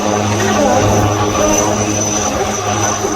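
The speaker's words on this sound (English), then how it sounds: "you are now witnessing an advanced flight helicopter undertaking evacuation" A helicopter flies close overhead during a naval rescue demonstration, a steady, loud droning engine roar with a constant whine, with no clear speech.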